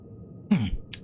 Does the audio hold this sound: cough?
yes